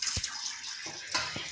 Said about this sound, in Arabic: نغسلها بالمية الحنفية العادية بلا المي متلجة